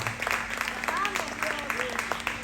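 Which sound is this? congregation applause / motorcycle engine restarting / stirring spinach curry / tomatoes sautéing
congregation applause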